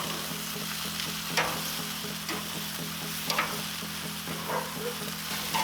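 Chicken wings sizzle on a Char-Broil Performance Series gas grill, a steady close hiss of fat frying with a low burner hum and occasional tong clicks.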